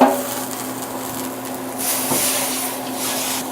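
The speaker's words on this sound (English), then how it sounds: "we're scraping up any bits that are stuck to the bottom of the pan" A utensil scrapes the bottom of a pan while it is deglazed with white wine and brandy for a lobster bisque. Close, uneven scrapes and soft knocks sound over a low hum, and no one talks.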